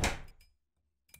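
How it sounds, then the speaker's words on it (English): A door opens in the Korean horror game Savior, with a loud thudding creak at the start that fades out, then a short second clunk after a near-silent gap. "Door open."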